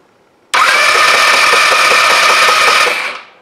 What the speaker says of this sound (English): I'm going to turn on the scooter, and I'll try cranking it over